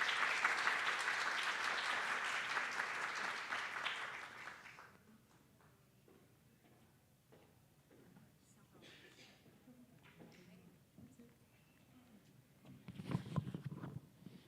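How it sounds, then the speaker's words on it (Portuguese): An audience applauds to welcome guests at a talk, loud sustained clapping for about four seconds that fades out, followed by quieter room noise, shuffling and faint voices, with a brief thump near the end. "Recebamos nossos convidados com uma salva de palmas,"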